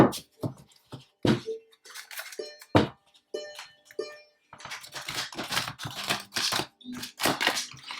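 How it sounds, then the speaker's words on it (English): A tarot card deck is shuffled in quick bursts of papery riffles and taps, close and crisp, separated by short silences before a longer continuous stretch of shuffling. "Two more shuffles."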